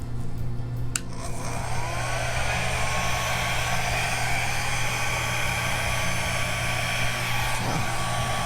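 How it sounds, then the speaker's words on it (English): Steady blowing air, like a hair dryer, pushed over a wet acrylic Dutch pour painting, a continuous close whooshing hum held for the whole stretch with a brief click near the start. "we'll just blow it out and see what happens"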